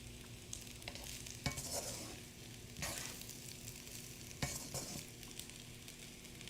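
Shrimp fried rice frying over medium heat with scallions, butter and vegetables, a steady broadband sizzle broken by a few louder scrapes of stirring, close and continuous with no talk.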